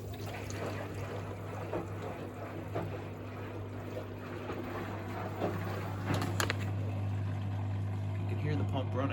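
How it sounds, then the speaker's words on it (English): A Miele WS5073 sluice washing machine, fitted with a drain pump in place of the sluice, draining water: a steady low pump hum runs throughout with water gurgling and trickling, and a person talks over it. "You can hear the pump running. See the water going down."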